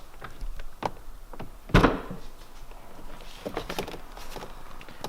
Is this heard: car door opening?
yes